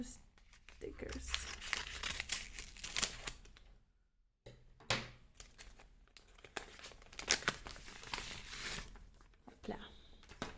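Parcel packaging with stickers on it, holding lino-cutting blocks, is unwrapped by hand in close crinkling, crumpling and tearing bursts that run on and off throughout, pausing briefly midway, with someone talking at times.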